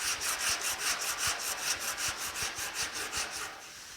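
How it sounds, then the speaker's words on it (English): Longboard sanding body filler skim coat on a 1950 Chevy truck hood, a steady rhythmic scrape of back-and-forth strokes, close and fairly loud, about eight passes before it eases off. "when I'm sanding with the longboard"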